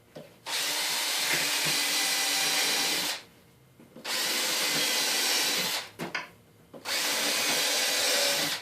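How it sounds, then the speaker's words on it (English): A power drill pre-drilling screw holes whirs in three sustained runs, close and loud, separated by brief pauses. "And so what I'll do is I'll go through and just pre-drill it all."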